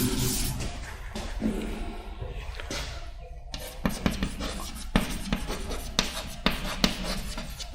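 Chalk or marker scratching out notes on a classroom board, a steady run of close, busy scraping strokes and taps that carry on for several seconds with a short lull partway through, no voice over it.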